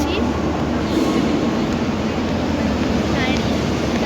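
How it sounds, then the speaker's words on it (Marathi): A train at a railway station produces a loud, continuous rumble and roar that stays close and constant throughout. "इथे ट्रेन येणार आहे आमची"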